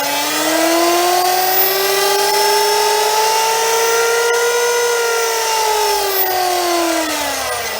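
A brushless motor run by an ESC on a servo tester whines steadily, its pitch climbing as the throttle is raised, holding high, then easing slightly near the end; a loud, close electric hum with no talking.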